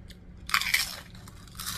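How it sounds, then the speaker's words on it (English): Someone bites into and chews a sub sandwich up close, giving a short burst of crisp crunching followed by softer chewing. "the crunching, I can't stand it."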